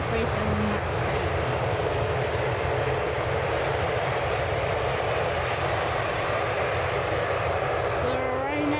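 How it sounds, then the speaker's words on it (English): A Ryanair Boeing 737 MAX 8 arriving from Berlin lands at Manchester Airport early in the morning with a sustained, fairly loud jet roar and engine whine that hold steady for several seconds, while someone talks over it. "it's just a Ryanair coming in now. It's come from Berlin. There's a Boeing 737 MAX 8."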